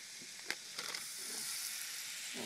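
Two sticks of butter hiss and sizzle steadily as they melt in a hot pan on the stove, a continuous close frying crackle with a few sharp spits near the start.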